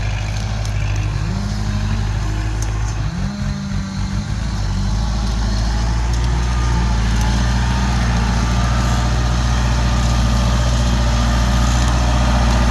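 A Kubota L5018 small farm tractor engine runs steadily nearby, a loud, continuous low diesel drone with a brief rise in revs partway through, with no talking.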